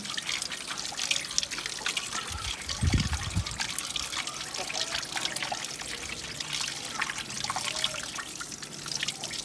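Raw chicken pieces being washed by hand in water, with steady trickling and splashing running throughout and a brief heavier slosh near the middle.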